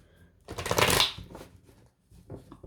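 Tarot cards being riffled and shuffled by hand, a loud close burst of flapping card noise followed by smaller shuffles and a brief pause.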